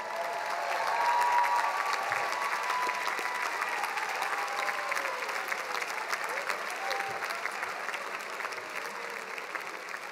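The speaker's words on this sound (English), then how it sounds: "Would all of our 2018 Price Scholars rise so we may applaud your accomplishments?" Graduating scholars at the 2018 USC Price commencement ceremony receive sustained applause from a large audience, a steady wash of clapping that swells early and then holds evenly throughout.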